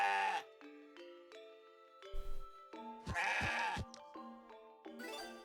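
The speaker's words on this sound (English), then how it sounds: "Bring the goat kid back to the Virgin Guard." A goat kid in the video game CrossCode bleats in short cartoonish bursts over steady game music, with a few quick cries clustered near the middle of the clip.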